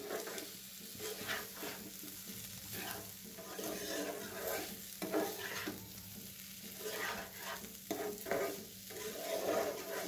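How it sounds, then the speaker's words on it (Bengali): Paneer pieces frying with sugar in a pan, a steady sizzle broken by repeated scraping and stirring strokes, close and moderately loud, with no voices. "সব পনিরগুলি কিন্তু চিনি দিয়ে ফ্রাই করা হবে"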